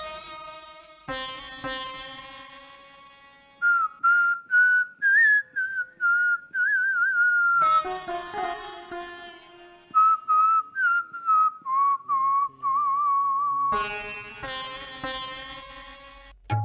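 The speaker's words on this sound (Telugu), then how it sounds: "ఆయన విజిల్ గానంతో మనం అందరినీ మంత్రముగ్ధం చేయాల్సిందిగా" A man whistles a Telugu film song melody solo, with clear sustained and sliding tones in phrased bursts separated by short pauses, close and loud, with no talking.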